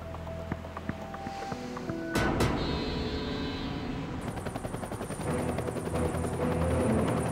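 A helicopter's rotor chops with a steady rhythmic beat and an engine whine, the noise swelling abruptly partway through and staying loud and close.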